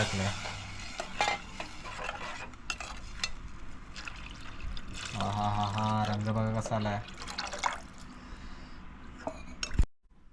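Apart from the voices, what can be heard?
water poured into tempering for mango shrimp curry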